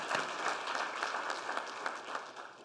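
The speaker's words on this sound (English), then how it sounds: "Let's give Celine a round of applause." A crowd at a police fallen officers tribute applauds the national anthem singer, a brief burst of dense, even clapping that stays steady and moderately distant for under three seconds.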